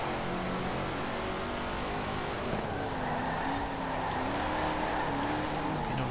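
A Shelby with a big V8 and rear-wheel drive races in Forza Horizon 4, its engine droning steadily with shifting pitch and a sustained, fairly loud roar throughout.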